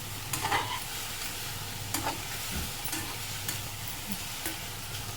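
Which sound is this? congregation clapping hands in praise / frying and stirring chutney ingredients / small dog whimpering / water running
frying and stirring chutney ingredients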